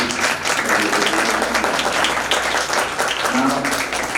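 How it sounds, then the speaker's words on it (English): Steady, dense audience applause fills a school robotics expo hall at Phoenix International Group of Schools, holding loud and continuous from start to finish with a faint murmur of voices underneath. "I all appreciate a big round of applause to all of you."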